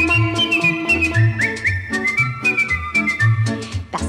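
A melodic whistle carries the tune in a 1959 song, bright and steady above a bouncy band accompaniment with plucked bass and rhythmic backing.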